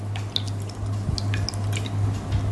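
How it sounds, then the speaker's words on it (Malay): Both hands are wetted under running clean water, heard as soft, scattered drips and small splashes over a low steady hum, close and without talk. "Pertama, basahkan kedua-dua tangan menggunakan air bersih."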